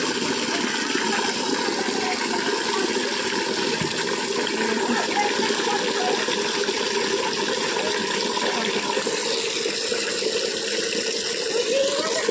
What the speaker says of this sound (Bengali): আর দেখুন বন্ধুরা, কলের জল পড়ছে। এতগুলো বালতি ভর্তি করতে হবে।